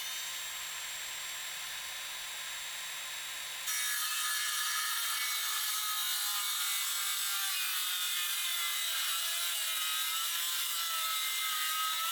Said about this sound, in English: I used my circular saw to cut the corner off.